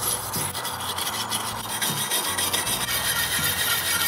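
A steel wire brush scrubs gunk off metal garden tools such as pruners, an edger and a trowel, a close, continuous raspy scraping made of quick back-and-forth strokes, with no talking.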